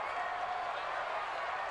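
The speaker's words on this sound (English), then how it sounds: "The crowd getting into it as we come up on a big 3rd down." Football stadium crowd ahead of a big third down, a steady wide roar of cheering and noise from a large mass of fans, even and continuous throughout.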